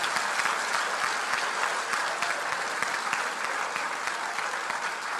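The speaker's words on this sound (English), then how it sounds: "One big round of applause to all the volunteers." A large audience at a national conference of CA students applauds the volunteers, dense continuous clapping that stays loud and even for five seconds, filling the hall without pause.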